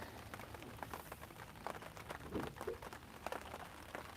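Rain falling during carp fishing outdoors: a faint, steady patter on surfaces with scattered brief drop-like ticks and soft background noise, no talk.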